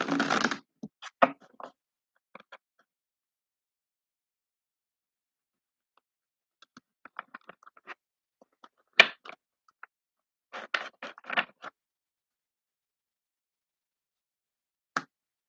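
A deck of angel cards is shuffled in short bursts of crisp riffling and tapping, separated by long silent gaps, close and quiet.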